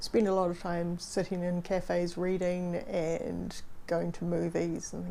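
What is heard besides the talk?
No everyday noises stand out.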